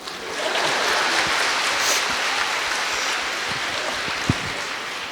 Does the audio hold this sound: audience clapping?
yes